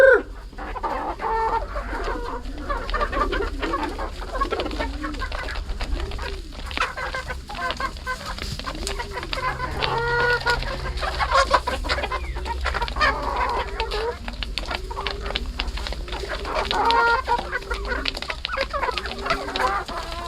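Backyard chickens cluck and crow together in a busy, continuous chorus close to the microphone, with overlapping calls rising and falling throughout and no talking.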